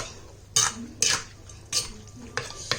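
Green papaya being lightly pounded in a mortar for a ginger som tam, with four or five sharp, close knocks spaced about half a second apart over a quiet room.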